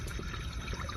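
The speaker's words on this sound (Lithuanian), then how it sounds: "radom vandens ir reikia papildyti atsargas" Water containers fill from a street tap in central Kraków, a constant close pouring rush with no talk.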